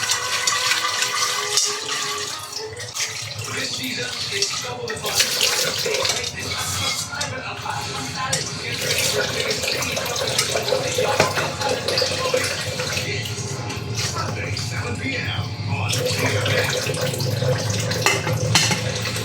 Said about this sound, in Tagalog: Unang-una, hugasan natin ng lulutuan, syempre.